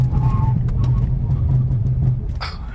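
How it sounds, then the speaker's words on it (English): A Ford C-Max SE hybrid braking hard to a stop with ABS engaged: a steady low road and drivetrain rumble that holds through, with a brief higher squeal near the end. "ABS working hard to bring us right to a stop."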